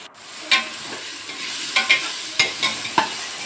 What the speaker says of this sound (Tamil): நல்லா பொன்னிறமாக வறுத்தாச்சு